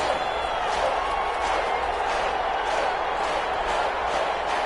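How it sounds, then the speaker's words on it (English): Loud, steady roar of a virtual football stadium crowd during an American football video game on PS4, a dense unbroken wash of noise rising as fans get up on a short-yardage down. "Here comes a big one as this crowd gets up making some noise"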